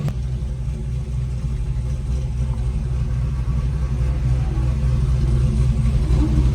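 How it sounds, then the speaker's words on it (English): A car carrying a newly installed engine rumbles steadily and loudly at close range, its low engine drone holding throughout and swelling slightly toward the end. "First ride in the new motor"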